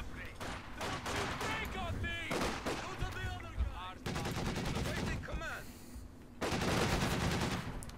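A Soviet DShK heavy machine gun fires rapid bursts in Company of Heroes 2, set against other gunfire and battlefield noise, with a commentator talking over the action.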